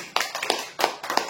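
Applause for a prize winner at a weekly customer lucky draw, heard as a few loose bursts of hand clapping from a small audience, fairly close, with short pauses between them.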